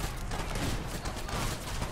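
Dense rapid gunfire from the violent shooter game Hatred, a loud continuous rattle of shots filling a brief moment with no talking.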